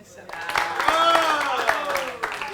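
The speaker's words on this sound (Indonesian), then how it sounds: "beri aplaus dulu untuk TVRI" A comedy open-mic audience at a TVRI Maluku show breaks into applause that swells and holds, with whooping voices rising over the crowd's clapping.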